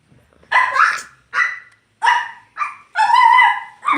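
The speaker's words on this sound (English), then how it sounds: "You should hear his bark." A dog barks loudly and close, five or six sharp separate barks in an uneven rhythm, the last one drawn out, with quiet gaps between.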